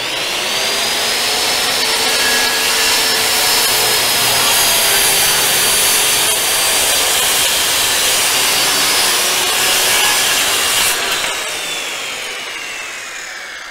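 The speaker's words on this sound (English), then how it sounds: "get the saw up to speed," A circular saw cuts through wood with a loud, sustained whining roar that holds steady for about eleven seconds, then winds down as the blade slows.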